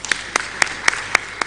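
Six slow, evenly spaced claps ring out in a conference hall, sharp and fairly loud over a quiet room background, with no one talking over them.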